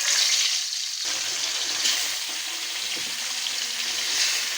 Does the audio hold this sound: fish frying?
yes